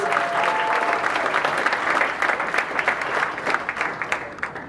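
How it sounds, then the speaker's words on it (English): Audience applause for the first volunteer at a startup showcase evening, a dense steady wash of many hands clapping at moderate loudness throughout, with no talk over it. "round of applause for Sherry, our very first volunteer"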